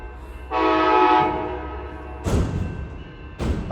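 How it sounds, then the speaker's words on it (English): An Amtrak Capital Corridor passenger train led by a Siemens Charger SC44 locomotive arrives, with a sustained horn blast followed by rushing, rumbling train noise and another short burst at the end, fairly loud and close. "Here it comes. A Siemens Charger SC44 leading off."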